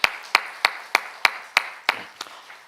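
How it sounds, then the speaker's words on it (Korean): Clapping at a health lecture in a sanatorium: about eight crisp, evenly spaced claps close by, falling into a steady beat before trailing off softer at the end. "서로가 서로에게 박수로 좀 축원하시면"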